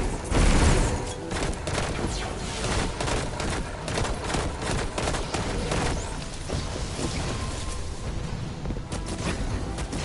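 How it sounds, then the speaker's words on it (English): Dense, sustained gunfire and explosive booms from the video game Destiny 2, a loud continuous barrage of overlapping shots and blasts filling the whole stretch with no pauses. "Stop shooting at me."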